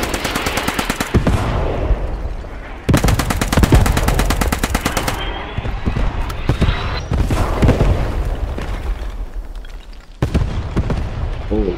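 Sustained machine-gun fire with sharp gunshots and booming impacts in the World War II shooter Squad 44, loud and close, in dense rapid bursts broken by brief pauses, with no talking.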